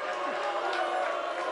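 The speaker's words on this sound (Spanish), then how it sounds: "Acá el orador permite el segundo de abucheo." A crowd at a university lecture hall event with Cristina Kirchner gives a brief, dense outburst of booing and jeering that fills the room and sounds like a continuous roar.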